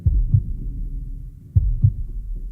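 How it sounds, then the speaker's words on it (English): A heartbeat thumps in two close, deep lub-dub pairs, loud and muffled against a low hum, with a pause of about a second and a half between the pairs. "Oh my God. It's my heartbeat."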